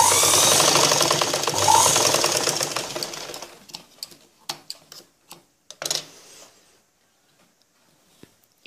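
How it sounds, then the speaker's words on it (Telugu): A sewing machine stitches a folded blouse hem in a continuous close whirr for about three seconds, fading out into scattered clicks and fabric handling taps. "విధంగా మనం కింద భాగాన్ని షేప్ దగ్గర పైకి ఈ విధంగా మడత పెట్టుకొని స్టిచ్చింగ్ చేసుకోవాలి."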